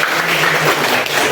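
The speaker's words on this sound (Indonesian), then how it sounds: "Oke, tepuk tangan dong." Students in a classroom clapping together, a brief, dense burst of applause filling the room for just over a second with no talking.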